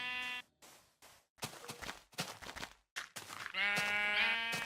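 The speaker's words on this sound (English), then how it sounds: "The player punches a sheep, picking up a wool block." Sheep in the video game Minecraft bleat several times in separate bursts with short gaps, close and clear, the last bleat longer and louder.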